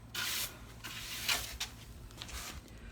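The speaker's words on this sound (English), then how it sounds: "just get you a little whisk broom and just sweep it off." A small whisk broom sweeps a work area in a few soft, brisk strokes, quiet bristly swishes close by with short pauses between them.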